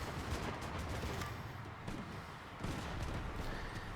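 Dense, rapid gunfire from the mobile shooter game FRAG Pro Shooter, a steady crackling barrage of shots with explosive bursts, continuous and fairly faint throughout.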